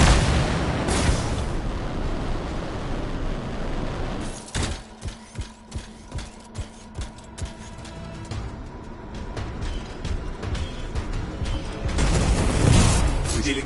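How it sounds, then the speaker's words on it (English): An explosion erupts in the Anthem video game, a heavy booming blast followed by a string of rapid crackling bursts and rumbling debris, loud, with a spoken voice faintly in the mix. "It'll be a contained explosion."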